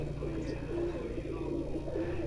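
Soft, low pigeon coos repeat under a steady background murmur, close but quiet.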